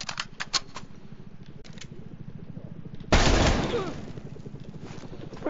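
Sustained burst of suppressing automatic gunfire from Call of Duty Black Ops Cold War, beginning a few seconds in with a loud, dense blast of shots after quieter rapid rattling, continuing steadily to the end.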